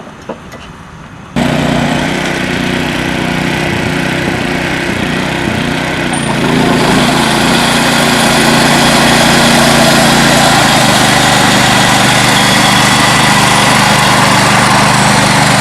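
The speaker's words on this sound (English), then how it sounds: "You can see the material being lifted as he's mowing this green." A greens mower fitted with brushes starts up and runs steadily while mowing a golf putting green, its close, loud, constant engine whine rising slightly after a few seconds.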